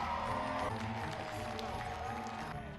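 Applause and cheering from a crowd of students in the Hogwarts great hall during the Harry Potter sorting scene, a steady dense clatter of clapping mixed with cheers and a film score.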